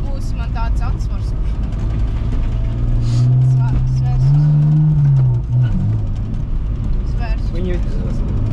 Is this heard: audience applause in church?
no